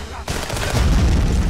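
Explosive barrels blow up in the video game Contraband Police, a sudden loud boom after a brief quiet moment, followed by a rumbling, crackling roar that stays loud to the end.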